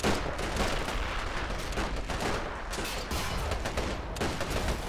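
Continuous gunfire from 2-pounder guns and small arms in a desert war video game battle between Australian defenders and the German Afrika Korps, with dense overlapping shots and bursts filling the whole stretch.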